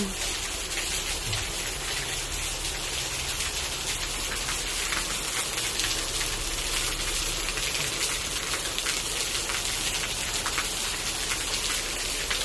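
Steady, heavy rain hissing down continuously, with drops pattering on surfaces nearby and no voices.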